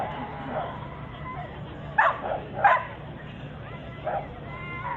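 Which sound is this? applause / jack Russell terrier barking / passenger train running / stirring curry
jack Russell terrier barking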